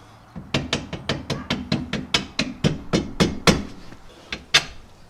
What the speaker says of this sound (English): We'll grab the mallet.